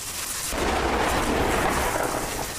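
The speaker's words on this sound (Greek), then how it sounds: "Αλλεπάλληλοι κεραυνοί και αστραπές πλήττουν την περιοχή του Ηρακλείου" Thunder from repeated lightning strikes during a winter storm over Heraklion, Crete: a loud, deep rolling rumble swells in after a brief quieter moment and holds steady without letup.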